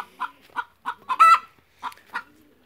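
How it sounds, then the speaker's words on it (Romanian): A noisy hen clucks in a series of short, sharp bursts with one louder squawk in the middle, close and clear against silence. "Aici este o găină galăgioasă"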